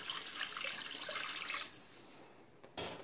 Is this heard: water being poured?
yes